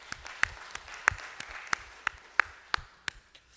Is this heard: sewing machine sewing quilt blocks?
no